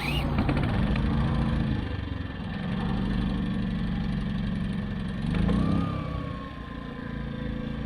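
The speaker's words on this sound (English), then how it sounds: "Okay, we now have the generator running." A portable generator set up on a boat starts and runs, giving a steady mid-pitched engine drone that surges briefly twice before settling, close and fairly loud, with no talking.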